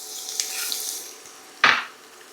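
Carrots drop into hot oil in a home kitchen pan, setting off a sudden loud burst of sizzling that quickly fades after a quiet stretch.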